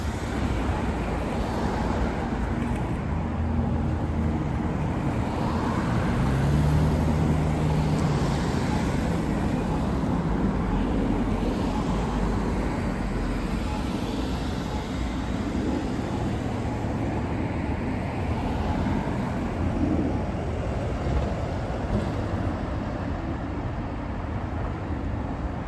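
The N6 night bus in Washington, DC passes on a city street, a broad steady engine and road roar that swells and fades amid constant traffic noise, with no talking.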